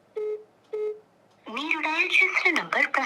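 Two short, clean phone dialing tones sound alone, each a brief steady beep, and then a person starts talking while a call goes out to a member of the legislative assembly for Khanapur.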